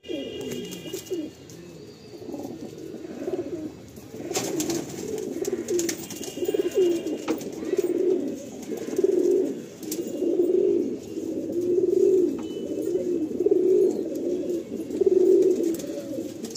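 Madrasi pigeons cooing close by in a steady rhythm of repeated low, throaty coos, rising in strength partway through against an otherwise quiet background.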